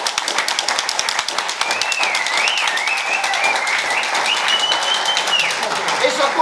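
Wedding guests clap and applaud steadily throughout, a dense patter of hands with voices and a whistle-like tone mixed in.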